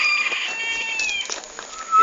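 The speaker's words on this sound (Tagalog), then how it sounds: "Hindi, parang manok yan ha." A chicken calls with a run of high, tonal cries that rise and fall, fairly close and fairly loud, with no talk over it.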